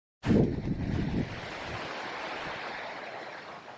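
Strong wind roars steadily across the microphone outdoors, starting with a loud gusty burst and settling into continuous broadband rushing, with no voices.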